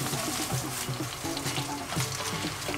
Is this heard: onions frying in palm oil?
yes